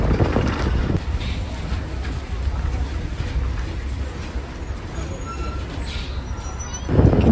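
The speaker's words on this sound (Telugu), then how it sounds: "కింద రైల్వే బ్రిడ్జ్ నుంచి మన బస్సు పాస్ అవుతుంది" An APSRTC express bus grinds along a badly broken road, its engine and chassis making a loud, continuous low rumble with rattles, and heavier jolts near the start and the end.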